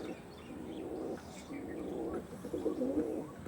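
Pigeons, including a pure Arshad-line breeding hen, cooing softly in low, rolling bursts nearby, with a faint murmur of background noise.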